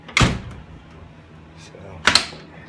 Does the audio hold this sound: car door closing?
yes